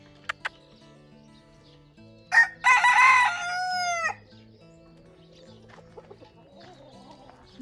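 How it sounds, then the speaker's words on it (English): A rooster crows loudly and close by, a long drawn-out call, with a couple of sharp clucks before it. Low background music plays throughout. "It's a pretty chicken."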